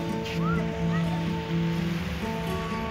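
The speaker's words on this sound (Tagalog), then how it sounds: "Yan yung dagat" Sea waves wash in a steady, rolling surge close by, with a low tonal hum running underneath and a brief chirp-like sound early on.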